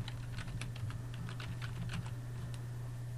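A computer keyboard is used to type a file name, index.html, in a quick burst of light, close keystrokes over a steady low electrical hum, with no speech.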